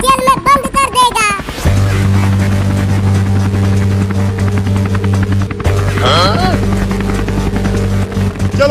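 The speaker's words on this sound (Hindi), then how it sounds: "चलो जल्दी से हेलीकॉप्टर में आ जाओ।" A steady low mechanical drone of a helicopter engine hums continuously under raised voices in a cartoon, loud and close throughout.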